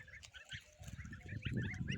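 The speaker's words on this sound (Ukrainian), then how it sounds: "тут такі вже підросли трошки гусенятка такі слухняні" Young goslings kept on a farm honk and peep together in a faint, busy flock chatter, with soft rustling and shuffling from close by.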